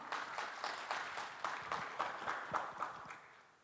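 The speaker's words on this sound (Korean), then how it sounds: "여러분 박수로 맞이해 주십시오" Applause from a modest crowd at a government innovation fair presentation, a steady patter of clapping that fades off toward the end, heard from some distance.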